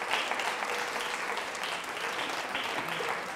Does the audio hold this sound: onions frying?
no